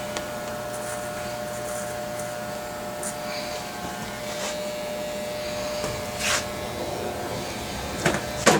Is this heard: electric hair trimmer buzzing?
yes